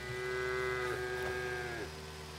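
Cows lowing in the farming video game Farm Together 2, a sustained bovine moo with pitch bends, continuous and fairly close over soft ambient game music, with no talking.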